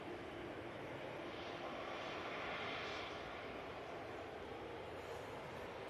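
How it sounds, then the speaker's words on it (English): An SAS Airbus A320neo jet arrives at Manchester Airport from Stockholm, giving a continuous, fairly distant broadband roar that rises gently toward the middle and stays even throughout. "Next arrival is a SAS A320 Neo from Stockholm"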